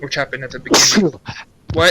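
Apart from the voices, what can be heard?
sneeze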